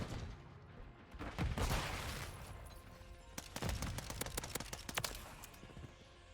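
Pistol fire from a COR-45 handgun in Modern Warfare 3, a series of sharp single shots spaced irregularly over background game noise, with a heavier burst early on.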